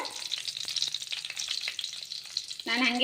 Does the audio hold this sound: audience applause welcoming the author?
no